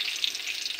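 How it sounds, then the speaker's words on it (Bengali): Dry red chillies, whole cumin and bay leaf fry in hot oil in a kadai, giving a steady, close, loud crackling sizzle that runs unbroken through a brief moment with no voices. "আমার জিরা, শুকনো লঙ্কা, তেজপাতা ভাজা হয়ে গেছে"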